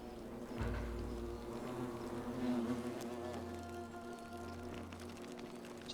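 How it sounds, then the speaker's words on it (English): Bees buzz in The Forgotten City, a continuous droning hum that swells and fades, close and steady, layered over a low sustained tone. "Is it the sound of bees?"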